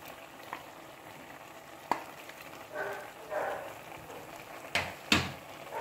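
Prawns frying in a pan are stirred into their masala for a Mangalore-style sukka, with a soft, steady sizzle broken by a few scraping stirs and sharp clatters of the utensil against the pan.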